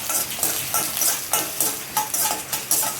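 Chana dal and urad dal dry-roast in a pan for a spicy chutney, giving a steady crackling sizzle broken by repeated scraping stirs in an irregular rhythm, close and fairly loud with no voices.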